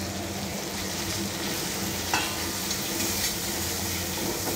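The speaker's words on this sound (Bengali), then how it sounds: "হ্যাঁ, রসুন দিয়ে দিচ্ছি, রসুন," Garlic sizzles steadily in hot oil in a pan for a dried loitta fish bhuna, a constant close hiss broken by a few light scrapes of stirring, with no speech.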